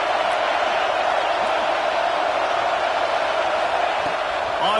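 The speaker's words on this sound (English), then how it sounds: "Listen to this crowd just shaking the girders of this place" Football stadium crowd during a game against Michigan, roaring steadily and loudly as a dense wall of cheering noise from start to finish, with no one talking over it.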